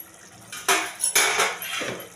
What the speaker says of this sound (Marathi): त्यामध्ये मी राईस ॲड करून घेते